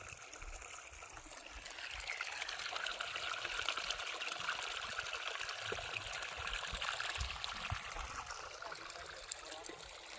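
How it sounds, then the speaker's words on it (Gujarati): Water trickles and gurgles steadily through an irrigation channel in a field planted with eggplant, radish and wheat, a continuous close burbling flow with no voices. "ખળખળ ખળખળ વહેતું પાણી."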